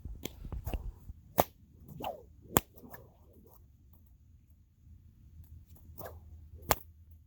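A single whip cracking during a whip routine, sharp loud snaps, several quick ones early then spaced cracks, with swishing sounds between them in a quiet space.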